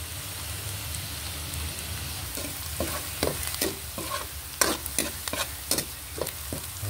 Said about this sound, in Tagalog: hulog na rin natin tong ating bawang